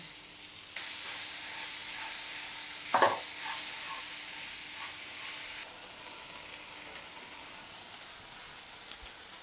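Small tomatoes with salt sautéing in a pan give a steady broadband sizzle, with stirring scrapes around the middle before the frying noise drops to a quieter hiss.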